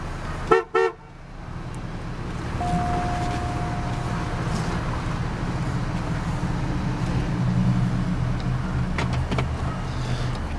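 A 2003 Cadillac Deville idles steadily after start-up, a low continuous engine hum close by, preceded by two short horn toots and a brief electric whine of a power window or accessory.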